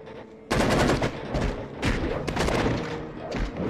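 Gunfire in the shooter game Enter The Matrix: loud, close bursts of rapid shots crack out in rough clusters, with a few heavier thumps mixed in and brief gaps between volleys.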